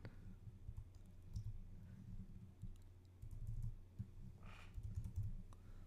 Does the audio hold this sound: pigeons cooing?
no